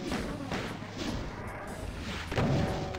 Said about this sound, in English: Maybe we can use the pistol.